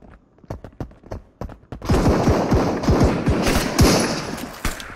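Video game gunfire in a Fallout-style vault shooter, sharp single shots at first then a dense rapid burst of automatic fire, loud and close, with no talking over it.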